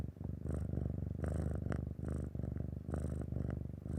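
A cat purrs close by in a steady rhythmic rumble, its pulsing breaths rising and falling continuously, with faint voices or background noise above it.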